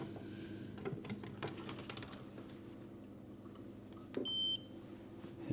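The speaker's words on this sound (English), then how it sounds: "And this right here is beeping" A RO/DI Flood Guardian water alarm on a Red Sea 170 G2 reef aquarium gives a faint, brief electronic beep amid a quiet indoor hum and soft clicks.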